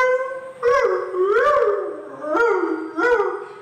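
A performer imitates a poor household's dog, voicing four drawn-out wavering howls with rising and falling pitch and short yelps at their onsets, loud and close with brief gaps between.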